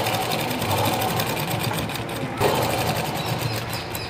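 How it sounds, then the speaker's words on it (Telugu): A sewing machine runs steadily and loudly up close, stitching the lining of a blouse, a continuous rapid whirring chatter with a brief dip partway through and no voices. "ఇలా టైట్గా లాక్కుంటూ కుట్టండి."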